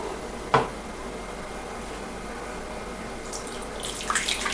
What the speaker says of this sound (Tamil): இப்போ இதுல வந்து வெதுவெதுன்னு இருக்கிற டீ டிகாஷனை நம்ம சேர்க்க போறோம்.